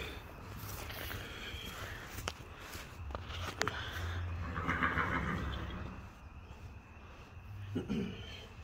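A horse whinnies loudly nearby, a long shrill neigh, amid hoof clops and shuffling footsteps, with faint voices in the background.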